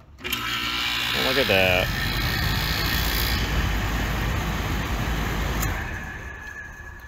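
A repaired air conditioner unit whirs on with a loud, steady motor-and-fan hum that holds for several seconds before easing off, while someone talks over it.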